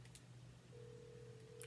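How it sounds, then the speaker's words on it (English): A faint, steady ringback tone sounds from a phone call placed to a mobile phone wrapped tightly in aluminium foil, starting partway in and holding a single even pitch under a low hum. "As you can tell, it is ringing"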